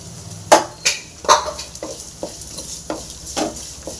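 Sliced onions fry in a pan with salt and curry leaves, the base of a bitter turkey berry tamarind gravy. A steady close sizzle runs throughout, broken by sharp spoon scrapes of stirring about once a second, with no talking.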